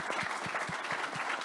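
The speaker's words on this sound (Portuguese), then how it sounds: "Queria mais uma vez pedir a salva de palmas para os colegas." Steady applause from a small conference panel audience, somewhat faint, with rhythmic claps repeating evenly throughout.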